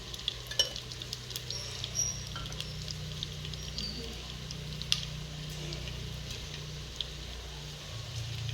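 Ghee heating in a cooking pan, a faint steady sizzle with occasional small pops and crackles, quiet and close throughout with no talking.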